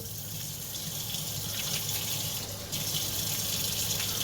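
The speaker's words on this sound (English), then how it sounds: "While he's washing his hands" Hot tap water runs steadily into a sink while a man washes his hands with soap, a continuous close, even gush with no talking.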